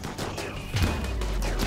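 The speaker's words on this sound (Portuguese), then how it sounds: "Olha lá, tá acertando tiro lá neles, ó." Rapid gunfire in the video game RimWorld, a short burst of overlapping shots crackling amid low rumbling game sound.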